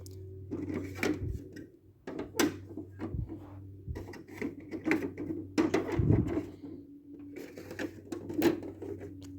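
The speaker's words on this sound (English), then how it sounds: "the throne, actually, when you swivel it, it drops." A 1980s Masters of the Universe plastic toy throne being swiveled and dropped, giving repeated close clicks, rattles and clunks of hard plastic with a humming background, no talk.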